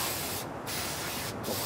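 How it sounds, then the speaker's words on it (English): An aerosol cleaner sprays liberally onto a battery in a close, loud, continuous hiss, broken by two brief pauses between bursts. "All right, I'm spraying it. It says spray it liberally."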